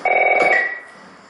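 A telephone rings loudly and close by in The Last of Us, one steady electronic ring lasting about half a second and then fading away, with no talk over it.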